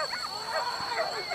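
Hunting dogs bark and yip during a hunt in a pine forest, several short repeated calls at a moderate distance.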